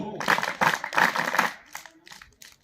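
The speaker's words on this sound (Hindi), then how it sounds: "special clap go" A group claps at a Republic Day school event, with a few seconds of loose, rhythmic clapping up close that thins into scattered claps and fades.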